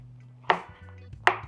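Two crisp knife chops land on a cutting board as tomatoes are cut, close up, spaced under a second apart over a faint low hum.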